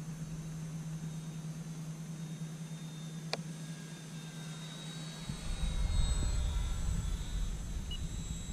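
A model Spitfire Mk XVI aircraft coming in to land: a steady engine drone fades, a sharp click sounds midway, then a louder, rougher rumble rises near the end.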